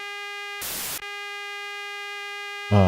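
A short, loud burst of white noise passed through a Line 6 Helix processor cuts in over a steady synth drone with bright harmonic overtones; the hiss lasts under half a second before the drone continues alone and a louder chord enters at the end.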